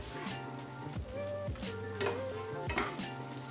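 Shrimp cooking in butter in a pan are flipped and stirred, giving a steady close sizzle broken by soft scraping stirs throughout.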